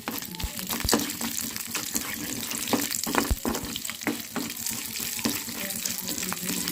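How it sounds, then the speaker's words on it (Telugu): Tomatoes fry in a pan with tempering spices for a chutney, giving a steady close sizzle broken by scraping and knocks of a stirring spoon, with no talk over it. "కాయలు అయితే హీట్ అవుతా ఉంది మొత్తం వేసేసుకున్నాం వేసుకొని బాగా ఫ్రై చేసుకుందామండి"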